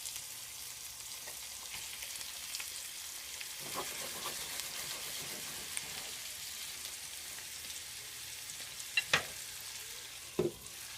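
A ribeye steak and asparagus fry in a pan with a soft, steady sizzle, punctuated by a few sharper pops and spatters toward the end.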